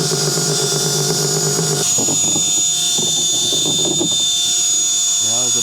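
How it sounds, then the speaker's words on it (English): A power drill runs at high speed with a loud, steady whine for about two seconds, then the tone drops away and faint, uneven mechanical noise continues, close to the recorder. "Need like a little jig that I can hold the drill in this exact position"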